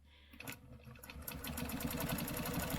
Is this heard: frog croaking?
no